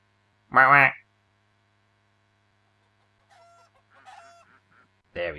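Ducks in the farming game Pro Farmer 14, one loud nasal honking call up close, then softer scattered quacks and clucks, with another call at the end.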